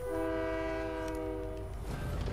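A video game train sounds its horn in a long steady chord of several held tones, loud and near, then the horn cuts off and a low rumble of the train carries on alone.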